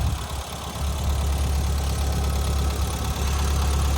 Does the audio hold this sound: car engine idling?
yes